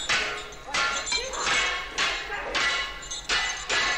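Clunking thuds from a film scene where figures work with a shovel and chains: several heavy, irregular impacts land close together, each a sharp, broad crash that rings briefly before the next.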